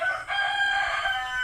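A rooster crows on a farm with a bahay kubo, one loud, sustained, close crow with no talking.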